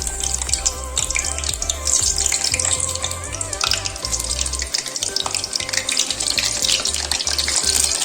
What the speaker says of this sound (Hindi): यहाँ पर हमने कढ़ाई गरम करके तेल डाल दिया है, उसमें हम बैंगन डालते हैं।